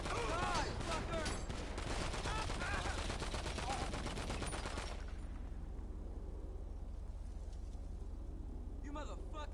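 Rapid video-game gunfire from GTA V fills the first five seconds in dense bursts over a steady hum, then cuts off abruptly, leaving a quieter stretch with faint game noise and a brief return near the end; speech mixes in.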